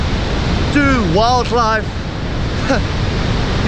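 Augrabies waterfall in flood in South Africa's Northern Cape roars as a steady, dense broadband rush throughout, with a person speaking briefly over the constant torrent.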